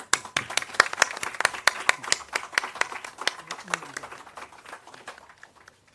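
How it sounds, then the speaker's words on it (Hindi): A crowd applauds at a talk on Ayurvedic oil pulling for teeth and gums: steady, dense hand clapping that runs for several seconds and fades slightly toward the end, close and loud. "ताली बजा लो तो अच्छे से बजा लो।"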